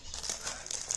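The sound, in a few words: crinkling wrapping of a delivered package being opened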